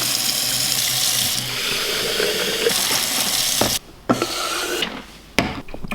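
Water runs steadily from a tap into bike bottles for an electrolyte drink, a loud continuous gush that cuts off briefly twice before resuming, with a few knocks of the bottles.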